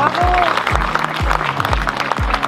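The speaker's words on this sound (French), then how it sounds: "mesdames, mesdemoiselles, messieurs, vous les applaudissez bien fort" A crowd at a French derby cross championship celebration applauds while loud rhythmic thumps pound underneath, like stamping or a drumbeat, and a brief tonal cry cuts through near the start.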